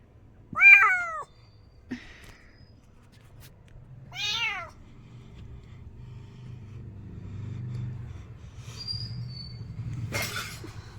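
A fluffy all-white cat meows several times nearby, the cries spaced apart over a low steady background rumble.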